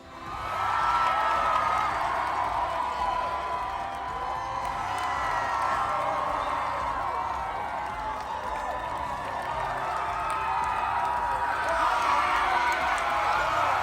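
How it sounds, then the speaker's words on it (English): A school student section at Joliet Catholic Academy roars with cheering, shouting and clapping in a dense, sustained crowd din that swells near the start and again at the end, with voices mixed throughout. "They are one of the best in the state, and they cheer for every one of our athletes."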